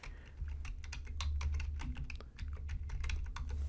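Fast, continuous clicking of keys on a computer keyboard, close and clear, with irregular bursts of keystrokes and a brief pause midway.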